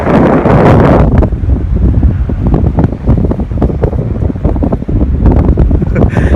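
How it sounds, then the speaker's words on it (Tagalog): Loud, gusty wind buffets the microphone with heavy rumbling on a coastal island in La Union, Philippines, steady throughout with strong blasts at the start and end. "Lakas ng hangin, my gosh."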